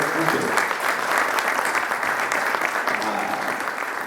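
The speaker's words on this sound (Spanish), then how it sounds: "Un aplauso para Miguel" Audience applause for Miguel at a book presentation, a full, sustained round of clapping from a roomful of people at steady loudness throughout.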